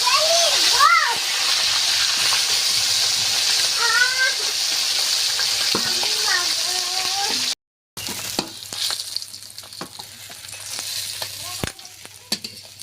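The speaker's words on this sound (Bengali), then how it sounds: "প্রথমে মাথাগুলো দিয়ে ভেজে নিচ্ছি" Snakehead fish heads frying in a pan, a steady loud hiss and sizzle of hot oil with occasional stirring scrapes, while people talk over it; sizzling quiets briefly near the end.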